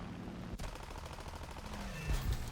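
Aircraft machine guns firing in the War Thunder air combat game, a rapid continuous burst that starts abruptly and rattles steadily to the end, with a heavier thump near the close.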